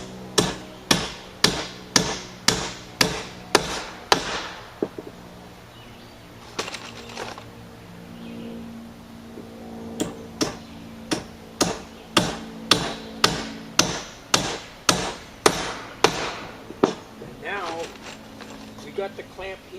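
Hammer blows driving nails into wood on a building project, fast regular rhythmic strikes in long bursts, loud and close, separated by a quieter stretch with talk.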